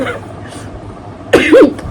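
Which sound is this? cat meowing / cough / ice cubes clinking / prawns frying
cough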